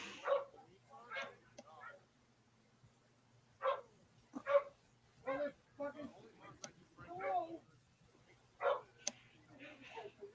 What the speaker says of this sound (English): A lot of barking over there.